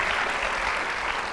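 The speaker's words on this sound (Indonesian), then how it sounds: "tepuk sekali lagi" Studio audience applause at an Indonesian television talent show, a steady dense wash of clapping filling the whole moment with no voices over it.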